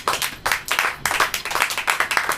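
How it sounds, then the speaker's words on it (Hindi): A church congregation claps hands in thanks, a dense burst of uneven claps that swells and pulses for a couple of seconds, fairly close and loud. "आइए हम सब मिलकर परमेश्वर को धन्यवाद दें तालियों के साथ।"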